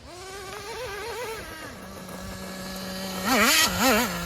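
A Traxxas Nitro Slash RC car's nitro engine with imperfect throttle linkage runs close up, a buzzing idle that rises in quick revving blips, steadies, then revs sharply twice more.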